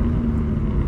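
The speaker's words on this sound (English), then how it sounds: "I can hear his turbos, bro." Turbocharged car engine from a Toyota GR86 on a midnight drive, a steady low droning hum held evenly throughout at close range, with no talk over it.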